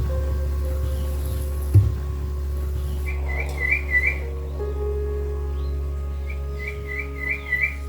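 A bird whistles a short repeated warbling phrase twice, moderately distant, over a steady low engine-like hum and occasional soft bumps.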